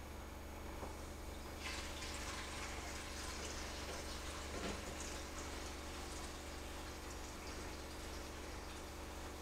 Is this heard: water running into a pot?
yes